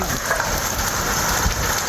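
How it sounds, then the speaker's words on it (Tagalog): Hailstorm with large hailstones pelting down outdoors near a parked car: a dense, loud, continuous drumming roar of impacts with no pauses. "Ulan ng yelo, guys!"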